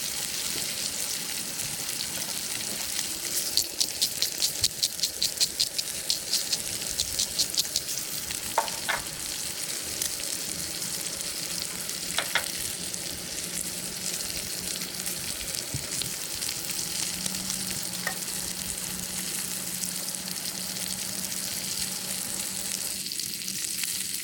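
A wagyu steak seasoned with Himalayan salt and pepper sizzles in an iron skillet at a campground, a continuous crackling hiss lasting over twenty seconds, with intermittent clicks and a few louder pops.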